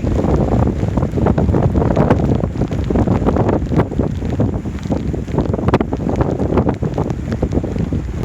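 Strong mountain wind near Overmountain Shelter on Roan Mountain roars and buffets the microphone in continuous loud gusts, with no other sounds standing out.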